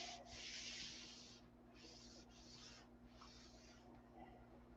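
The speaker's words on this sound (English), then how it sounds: "You don't want to be sanding without a block right now." Someone hand-sands a P-7 model aircraft canopy in several separate strokes, quiet raspy rubbing bursts close by, the first longest, over a low steady hum.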